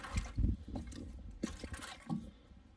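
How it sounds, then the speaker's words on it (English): Water splashing and pouring into an au jus drip pan set in a smoker beneath a two-bone standing rib roast, with close, irregular gurgles and sloshes that fade toward the end. "We're going to get our au juice drip pan in with some water."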